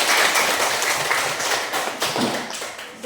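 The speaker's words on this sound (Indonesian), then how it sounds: "Coba tepuk tangan." Students in a classroom clapping together, a dense patter of hand claps starting loud and thinning slightly over three seconds, close and unaccompanied by talk.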